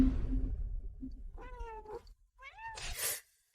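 A cat meows twice, two short wavering cries with a pause between them, after a low rumbling start and before a brief hiss of noise, fairly faint and alone.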